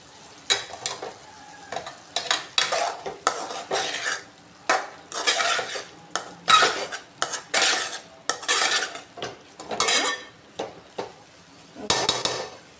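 Cauliflower curry with coriander powder being stirred in a pan, with repeated close metal spoon scrapes and knocks against the pan in irregular bursts over a soft sizzle.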